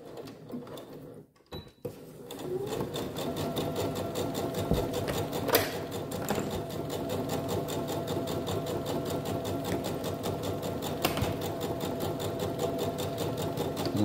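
A sewing machine stitches a long continuous seam along a large fabric pencil case, its steady rapid mechanical chatter running close and loud after a short start-and-stop at the beginning.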